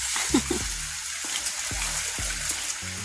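Heavy rain pours steadily outdoors beside a river, a dense continuous hiss with scattered louder splashes, close and loud with no talk.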